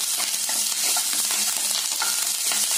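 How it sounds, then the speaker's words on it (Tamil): Roasted lentils, curry leaves, red chillies and garlic frying in oil, a steady close crackling sizzle with light stirring scrapes running throughout, no voices. "இதையெல்லாம் சேர்த்து இந்த எண்ணெயிலயே நல்லா வறுக்கிடலாங்க"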